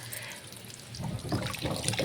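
Water runs steadily from a tap at home, a soft hiss that swells and turns to a close, splashing flow in the second half, with no talk.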